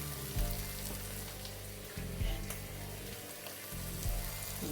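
Food sautéing in a hot pan for tuna pasta, with a steady close sizzle and crackle that runs through the whole stretch under a low, pulsing background hum.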